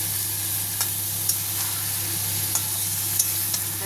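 Cauliflower sautéing with a splash of water in a pan for a vegetarian dish, a steady close hiss of frying with a low hum underneath and a few faint scrapes of stirring scattered through.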